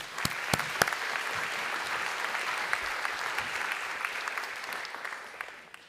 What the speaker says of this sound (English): Please join me in a round of applause for all the sponsors.